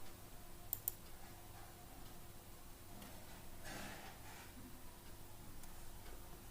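Mouse clicks on a computer during an R and RStudio install: two faint, sharp clicks close together near the start, then only low, quiet room hiss.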